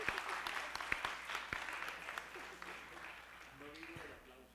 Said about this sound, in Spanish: Un aplauso para Fernando.